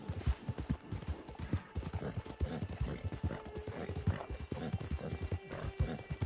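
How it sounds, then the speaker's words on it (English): Horse hooves in the Red Dead Redemption 2 online video game, a rapid rhythmic clip-clop of a galloping horse held steady and fairly close, with a few faint snorts and no talk over it. "My horse gonna give out before I get there."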